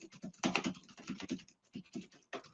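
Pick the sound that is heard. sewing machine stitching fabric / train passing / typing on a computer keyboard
typing on a computer keyboard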